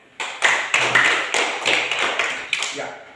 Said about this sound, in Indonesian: Tepuk tangan untuk Ina.